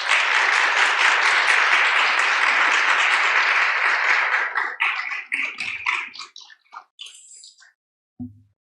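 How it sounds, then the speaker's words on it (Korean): A church congregation claps warmly to welcome the pastor at a first-anniversary Sunday worship service in Calgary, steady dense applause for several seconds that thins into scattered claps and fades out. "우리 목사님 나오실 때 박수로 이렇게 환영해 주시기를 부탁드립니다."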